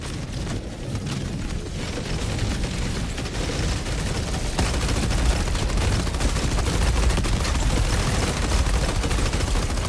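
Sustained automatic machine-gun fire in the shooter game Helldivers 2, a dense continuous roar of rapid shots with booming low rumble running loud throughout, no pauses.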